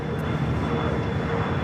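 A jet airliner rumbles steadily while taxiing at LAX, with a continuous broadband engine roar and a faint high whine holding throughout, fairly loud and without any voices.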